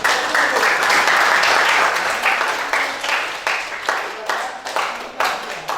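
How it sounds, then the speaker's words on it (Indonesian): Students in an English classroom clap together, a loud burst of many hands that settles into rhythmic, pulsing group claps, close by and gradually thinning. "Tepuk tangan dulu semua."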